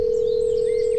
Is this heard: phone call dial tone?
yes